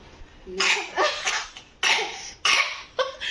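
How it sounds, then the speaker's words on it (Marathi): A few short, sharp coughs in quick succession, close by, separated by brief pauses. "त्याला पण खोकला आलाय"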